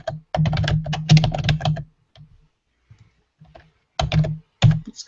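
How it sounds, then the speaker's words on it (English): Loud, rapid clacking of a computer keyboard in two bursts, with a short quiet gap between them and a few scattered keystrokes in the pause. "This is sorry, the keyboard's so loud."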